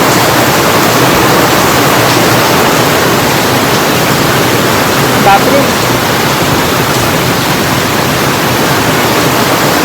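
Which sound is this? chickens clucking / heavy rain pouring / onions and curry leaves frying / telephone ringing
heavy rain pouring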